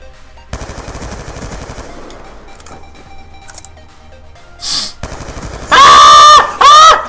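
Rapid automatic gunfire in an online shooter video game, loud bursts of machine-gun fire followed by sharp sniper-like shots near the end, alone without talk.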